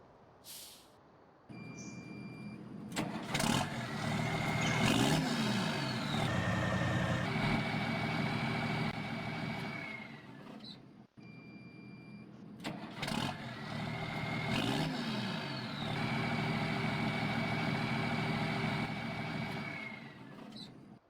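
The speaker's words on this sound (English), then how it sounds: "let's check the sound test on this tractor here. This is the Fendt Vario T700." Fendt Vario T700 tractor, a 700-horsepower machine in Farming Simulator 19, starts up and runs its engine in two similar passes, rising to a steady loud drone with revving swells before cutting off between runs; no talking.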